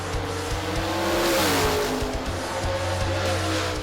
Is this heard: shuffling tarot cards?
no